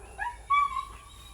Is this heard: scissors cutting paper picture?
no